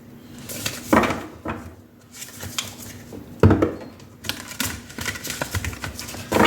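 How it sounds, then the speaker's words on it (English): Tarot cards being shuffled by hand, a crisp riffling and clattering that comes in uneven bursts with short pauses, fairly close and loud, with no talking. "That was a lousy shuffle."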